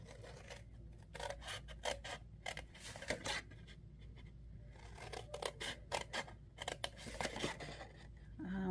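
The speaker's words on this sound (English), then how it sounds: "I'm going to cut up on the score lines all the way up to that first score line" Scissors cut card stock along score lines for a beehive Valentine box. Repeated crisp snips and scraping cuts sound close but quiet, in an uneven rhythm, with no talking.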